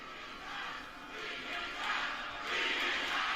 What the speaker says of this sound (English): the crowd said beat his ass